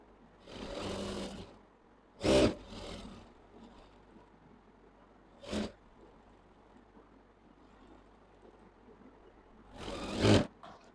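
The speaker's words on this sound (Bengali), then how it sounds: "তারপরে সেলাই দিব।" An electric sewing machine stitches fabric for a school-uniform shirt in several short bursts of fast whirring, close and moderately loud, separated by quiet pauses.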